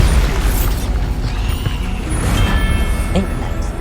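Bombarda explosion spell cast in the video game Hogwarts Legacy, a loud, dense blast with heavy low rumble sustained across the whole moment, a brief sharper burst near the end.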